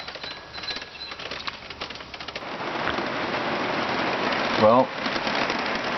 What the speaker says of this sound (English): this gives you an idea what rain is like in a camper